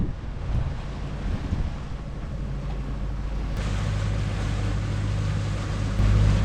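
Sailing boat surfing down modest sea waves off Gammon Head on the Devon coast, with steady rushing water and wind buffeting the microphone, a continuous close wash of surf along the hull and a low hum throughout.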